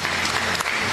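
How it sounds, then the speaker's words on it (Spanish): A congregation at a Sunday Mass for Mother's Day claps loudly, a full, dense burst of applause filling the church for about a second. "un aplauso al Espíritu Santo."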